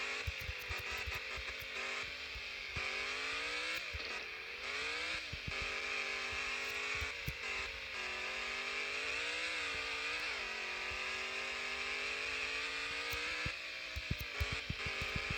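A speed buggy in the Off-Road Outlaws video game revs and drones across desert terrain, its engine pitch rising and falling steadily with occasional bumps and clicks, no talking.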